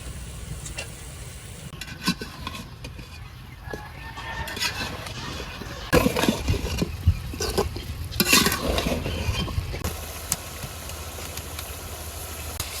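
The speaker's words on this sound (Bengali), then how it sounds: "ফুলকপি দিয়ে দিলাম ফুলকপিটা কষানো গেছে খুব" Cauliflower stir-fried with cooked-down spice masala in a pan: a close, steady sizzle with scattered spatula scrapes and clatters, louder bursts midway.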